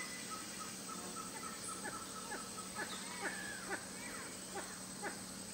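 A nocturnal boat-billed heron calls from shoreline vegetation with a series of short, harsh, croaking notes repeated irregularly, faint and somewhat distant over a steady hum of background noise.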